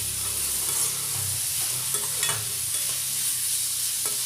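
A spoon stirring boiled jackfruit in a hot pan, soft scraping strokes over a gentle background sizzle, close and steady, with no voices.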